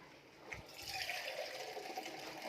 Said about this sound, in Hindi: ये 6 लीटर हमने पानी डाल दिया है